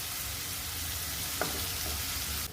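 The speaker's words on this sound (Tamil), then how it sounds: "ஒரு காய்ந்த மிளகாய், ஒரு பெரிய வெங்காயம் சேர்த்துக்கிறேன். இது நல்லா வதக்கி வச்சுட்டு" Dried chilli and a large onion saute in a pan for poha tomato upma, a soft steady sizzle with one brief spatula clink, fairly quiet and close, no talk.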